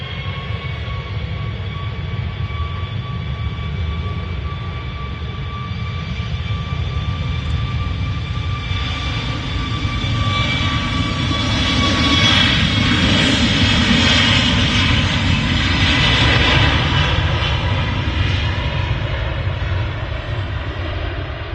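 A Boeing 737 Max 8 at Manchester Airport, a steady jet engine roar with a whining tone that swells louder mid-clip as the aircraft passes nearby, then eases slightly, with no talk.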